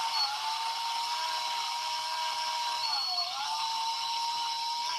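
A small hobby drill boring a pin hole into a miniature figure, a steady high-pitched whine held for several seconds that dips briefly in pitch as it bites, close and constant.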